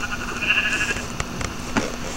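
A sheep on a Minecraft farm gives a single short, nasal bleat near the start, followed by a few soft clicks over a low, steady background hum.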